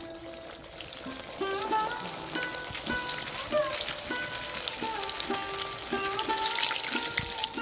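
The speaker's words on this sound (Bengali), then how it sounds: "তেল গরম হয়ে গেছে, এবার আমি মোমোগুলো ডিপ ফ্রাই করে নিচ্ছি।" Chicken cheese momos deep frying in hot oil, a continuous dense bubbling sizzle with crackles and a few scraping clinks from a utensil, close and moderately loud.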